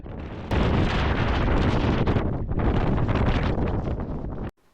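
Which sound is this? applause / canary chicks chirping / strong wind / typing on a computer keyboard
strong wind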